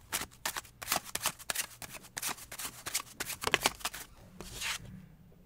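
A deck of tarot cards is shuffled and handled up close: rapid crisp riffling flutters and snapping card slaps in quick bursts, ending with a soft tail.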